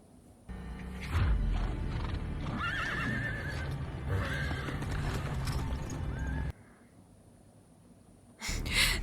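Horses in a TV drama whinny and neigh amid clip-clopping hooves and commotion, fairly loud and busy for several seconds, then a quieter stretch before another burst of noise.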